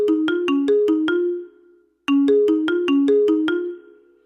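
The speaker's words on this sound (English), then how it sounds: "If the phone is ringing right now, they calling here" A telephone rings with a melodic electronic ringtone, two loud bursts of rapid chiming notes separated by a short pause.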